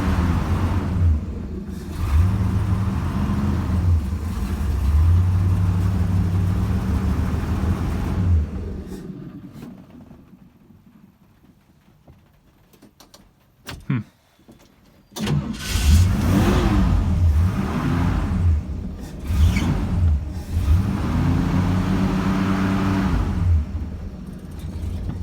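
A small engine with its choke partly closed, running on fresh fuel laced with carburetor cleaner, roars steadily and loudly for several seconds, drops to near silence with a brief sputter, then fires up again and keeps running rough and strong.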